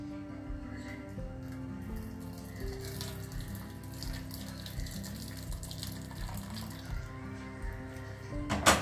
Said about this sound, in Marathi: तर याचं आपण थोडंसं पाणी काढून घेऊया,